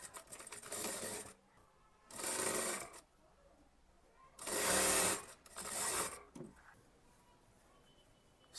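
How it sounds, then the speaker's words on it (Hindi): A sewing machine stitches the side seam of a kurti sleeve in four bursts of rapid mechanical whirring, each lasting about a second, separated by pauses, close and clear with no talking. "अब स्लीव में साइड सिलाई कर लेना है।"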